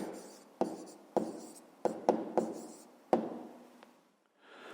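Pen writing down a math answer on paper, with a series of sharp taps and short scratchy strokes close up, ending in quiet.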